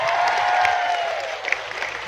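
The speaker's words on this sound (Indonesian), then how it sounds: "Tepuk tangan." Audience clapping at an outdoor Islamic sermon gathering on a school field in an Indonesian village, a steady, moderately loud wash of applause lasting the whole moment with a faint crowd murmur beneath.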